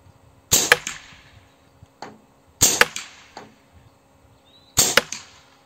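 Three loud shots from a rifle with a Slug Monster slug kit and 600mm Fiora barrel, spaced roughly two seconds apart, each a crisp crack followed by a short echo and faint thuds, without talk.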